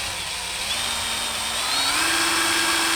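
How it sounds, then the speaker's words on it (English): A steady high-pitched power drill whines continuously, drilling out a hard screw on a Kawasaki KX250F, its motor pitch rising partway through as it bites into the hard screw; no voices. "Yeah, it's drilling. It's a hard screw."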